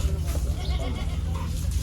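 Goats bleat at the Gabtoli livestock market in 2024, near a goat shed, with short bleats rising out of a dense, noisy crowd murmur and a constant market din.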